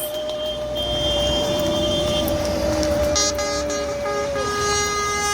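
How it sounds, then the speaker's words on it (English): Polish and Swedish fire trucks sound their horns, with sustained tonal blasts overlapping across the street amid engine and traffic noise, and a higher horn cutting in near the end. "All those horns."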